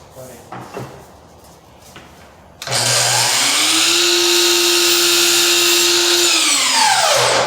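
A powered saw spins up sharply and cuts crown molding for kitchen cabinets, giving a loud sustained whine for about five seconds before winding down, after some quieter handling noise.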